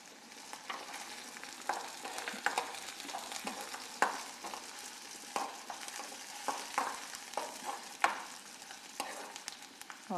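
Half an onion frying in a pan for a sweet-and-sour tomato chutney gives a soft, steady sizzle, broken by frequent scraping clicks from a stirring spoon.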